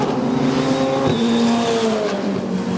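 Formula Regional race cars scream onto the front straightaway at New Jersey Motorsports Park, several high-revving engines overlapping with shifting pitch as they pass close by, loud and unbroken.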